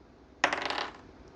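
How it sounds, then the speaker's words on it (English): A die rattles briefly across a hard surface, a sudden clatter of quick bouncing hits that fades within about half a second, close and otherwise quiet. "let's roll the dice"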